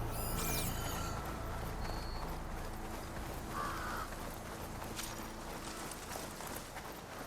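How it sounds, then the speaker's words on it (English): A crow in the Horizon Forbidden West video game gives a couple of harsh caws at the start over quiet ambient game sound, followed by faint rustling and distant effects. "It's a crow."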